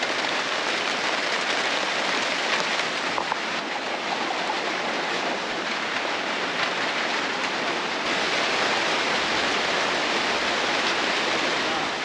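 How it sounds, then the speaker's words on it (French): Steady rain pours down outdoors among greenery in Benin, a dense, even hiss that holds at the same level throughout with no voices. "Je me sens vraiment calme quand il y a la pluie, même heureux. Ce bruit là qui est hyper apaisant."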